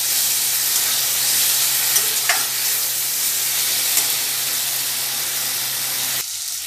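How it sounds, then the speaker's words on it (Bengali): Fried potatoes and pointed gourd cooked down with spices in a pan, a continuous close hissing sizzle with occasional stirring scrapes, steady and loud, with no speech. "পটল আর আলুগুলো সব আমি দিয়ে দিচ্ছি, দিয়ে একটু কষিয়ে নেব।"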